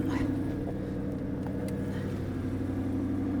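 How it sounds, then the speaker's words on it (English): Chevrolet Corvette C8 idling at temperature, a steady low engine rumble, fairly loud and close, with no talking. "you do notice a louder idle on this car"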